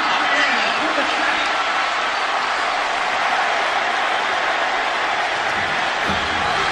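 A sellout stadium crowd roars at a 2008 Georgia–Tennessee college football game, a broad continuous wash of cheering and noise beneath a commentator's steady play-by-play talk.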